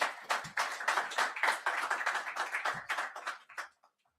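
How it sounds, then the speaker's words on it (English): A brief round of clapping from a small audience at a World Economic Forum session in Davos, close and crisp, holding steady for about three seconds before thinning out to a few last claps and silence. "Can I ask just for a warm round of applause for him,"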